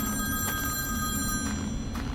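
A telephone rings inside a horror video game, its bell repeating in steady bursts over a dense, droning game ambience with no talk.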